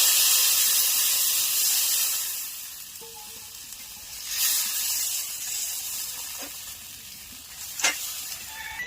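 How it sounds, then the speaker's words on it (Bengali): Liquid for a curry gravy hits a hot pan with a loud hiss and sizzle that gradually settles, rising again with a few sharp crackles and light clinks later on. "এবার আমি ঝোল দিয়ে দেব।"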